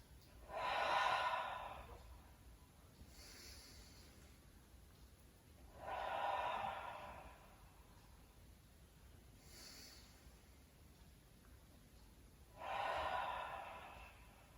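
Slow, deep breathing during a Pilates exercise: three loud, airy exhales spaced several seconds apart, with fainter inhales between them, close and unhurried, no talking.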